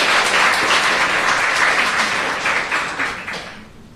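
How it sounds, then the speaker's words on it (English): Audience applause at a talk on feminist publishing: steady, dense clapping from a crowd that holds for a few seconds and then tapers off near the end. "Applause."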